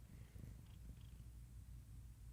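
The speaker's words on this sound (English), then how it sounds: "I can actually hear the purring" A domestic cat purring softly and steadily up close, a low continuous rumble with no talking over it.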